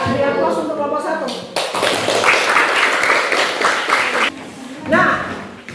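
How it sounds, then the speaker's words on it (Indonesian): Applause from an audience for presenting group 1 at a teacher-training session, a sustained wash of clapping lasting several seconds, close and loud, with a voice briefly speaking before and near the end. "Beri aplaus untuk kelompok 1."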